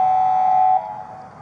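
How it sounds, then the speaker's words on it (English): A car horn sounds on a traffic-blocked street: one steady, loud tone held for under a second, then cut off, leaving a lower background hum. "I got you beeping that horn, Jeremy."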